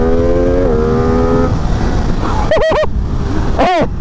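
An MV Agusta F3 800 RR motorcycle engine drones loudly at steady revs, then a few sharp rising-and-falling rev bursts cut through near the end.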